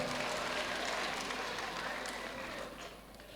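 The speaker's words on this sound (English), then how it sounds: "Give them a round of applause" An audience claps at a primary school leaving ceremony, a broad wash of applause that holds steady and then slowly thins and fades toward the end.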